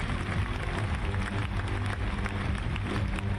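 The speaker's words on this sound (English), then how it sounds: "it's a loud cheer from this French crowd" French crowd at a Paris championship roaring and clapping in a dense, continuous wash of noise, fairly distant with scattered claps poking through.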